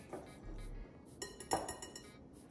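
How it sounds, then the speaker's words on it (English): A metal whisk mixes salt into all-purpose flour in a bowl, making faint, scattered clinks and taps against the bowl, quiet and close, with no talking. "it says to kind of mix it up a little with the whisk"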